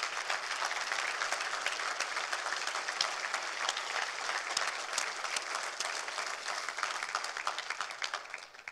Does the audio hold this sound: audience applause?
yes